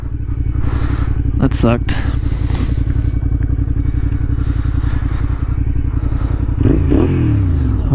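A Honda Rebel motorcycle rides along steadily, its engine droning loud and close under wind noise, with a couple of brief clattering knocks early on and a short spoken remark over the ride.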